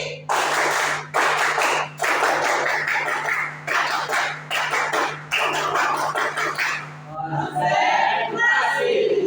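A class performs a rhythmic ice-breaking clapping routine together: loud, tightly patterned group claps in repeated phrases separated by short gaps, ending with children's voices chanting.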